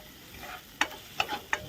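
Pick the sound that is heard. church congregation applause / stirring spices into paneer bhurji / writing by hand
stirring spices into paneer bhurji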